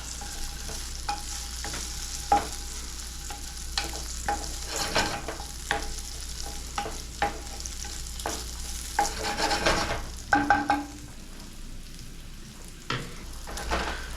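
Pancetta fries in a pan with a continuous close sizzle, broken by frequent scraping and clinking of a utensil stirring it, with no talk.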